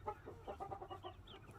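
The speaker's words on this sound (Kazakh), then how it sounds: "Индюк." A male turkey calls at a farm near young poults, a short run of faint, rapid gobbling clucks.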